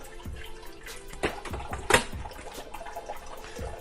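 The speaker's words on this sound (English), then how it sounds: "you may hear a bit of draining water" Melted ice water trickles and drips inside a Margaritaville Key West frozen drink maker, with a few sharper splashes, a soft draining gurgle heard close and fairly quiet.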